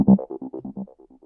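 A Serum synth lead played through a quarter-note dotted delay without ping-pong: a short burst of plucked notes followed by repeating echoes that fade steadily, heard alone.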